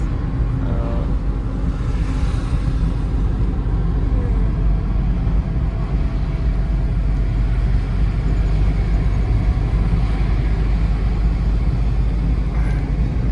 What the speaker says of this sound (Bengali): বেশি জোরে চলছে মনে হচ্ছে গাড়িটা